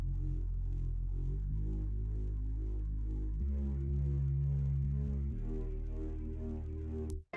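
A deep Reese-style sub bass synth from a track plays sustained low notes that shift pitch in a few steps. It sounds alone, then cuts off abruptly at the end.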